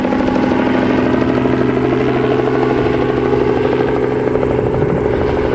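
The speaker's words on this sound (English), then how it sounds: "what I find interesting is the sound of the helicopter" A helicopter flying over Ottawa, its rotor and engine drone steady, loud and close, with a constant whirring hum and no voices over it.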